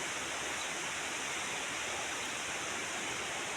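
Rushing river water, steady and dense, a loud unbroken roar at a riverside fishing spot with no voices over it.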